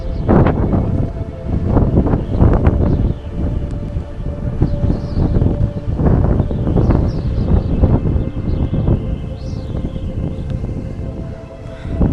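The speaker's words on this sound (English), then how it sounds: "very windy, like super duper windy, insanely windy" Strong, roaring wind blasts steadily across a ski resort in Andorra, a loud continuous rumble with gusty surges and no voices.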